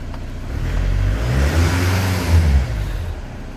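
An Audi Q3 TDI diesel engine runs steadily up close, a low droning rumble with a faint whir that swells slightly mid-way, alone without talk.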